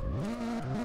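A car in a drift-tuned driving game revs as it brakes and slides, engine pitch climbing, dipping briefly, then rising again in one short, quiet burst.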